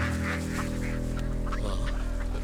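Released ducks call out in a brief burst of loud, nasal honking and quacking, several birds close together over a steady background hum in a Telugu comedy film scene.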